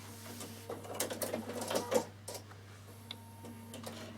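A Bernina sewing machine stitches forward and then in reverse, a rapid mechanical ticking run that swells for about a second and a half, then gives way to faint clicks over a steady low hum.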